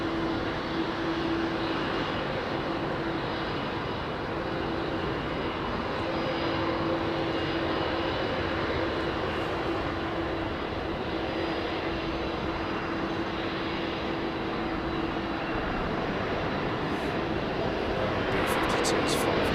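A jet airliner departs runway 27R at London Heathrow Airport with a loud, continuous engine roar and a steady droning tone, swelling slightly toward the end as voices talk underneath.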